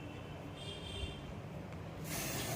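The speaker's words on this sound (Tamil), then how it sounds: "டாப்பில், சைடு, கீழே, கவரு எல்லாத்துக்குமே ஸ்ப்ரே பண்ணணும்." A short, loud hiss of anti-rust aerosol spray hits an LG front load washing machine near the end, rising over a constant background hum.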